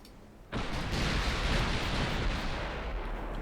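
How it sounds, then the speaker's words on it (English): Naval guns fire at a cruiser in a British campaign naval warfare video game, erupting as a sudden heavy blast that rolls into a sustained, loud, roaring rumble. "Oh, you're firing at the cruiser."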